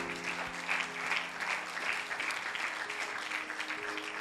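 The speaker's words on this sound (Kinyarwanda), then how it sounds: "Amashyi menshi ku mwami wacu Yesu Kristo." Congregation applauding at a church sermon, with dense, even clapping that sounds fairly distant and holds steady throughout.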